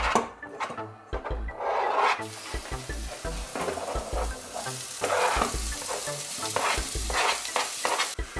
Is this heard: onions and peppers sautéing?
yes